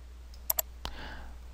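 Two quick, crisp mouse clicks close together, followed by a sharper single click, recorded near the microphone against a quiet room hum during a software walkthrough in Adobe Dreamweaver CS6.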